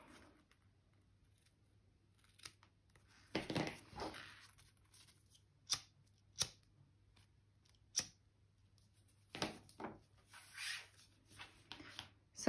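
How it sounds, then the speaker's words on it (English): Scissors snip zipper tape for a bag closure in a quiet room, several faint, close, irregular cuts and rustles spread across the span. "I'm just gonna trim the tape down a little bit to make it fit easier"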